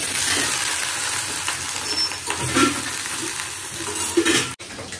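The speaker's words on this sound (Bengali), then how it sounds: "কলা ভাজা দিয়ে আজকে রান্না বান্না শুরু হবে" Banana slices fry steadily in hot oil with a continuous loud sizzle, broken by occasional scrapes and clinks of a spatula stirring in the pan.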